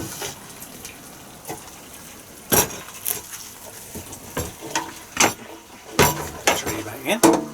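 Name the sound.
cutting cooked air-fried chicken on a plate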